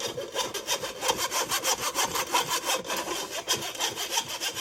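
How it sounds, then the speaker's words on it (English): Cocoa powder, baking soda and other dry ingredients being sifted for a chocolate raspberry mousse cake batter, giving a steady, close, rhythmic rasping and scraping that repeats continuously without any voices. "Sift the dry grains into the cake batter."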